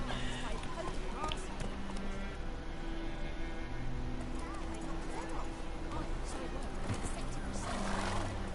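Roach, a horse in the video game The Witcher 3, neighs and trots with steady clip-clopping hooves in White Orchard, while voices talk over the hoofbeats.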